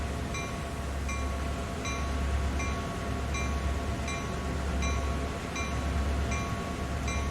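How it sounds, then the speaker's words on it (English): A locomotive bell in the Train Sim World video game rings in a steady, evenly spaced series of about ten clear metallic strikes over a low rumbling engine and rail drone. "Why is the bell on?"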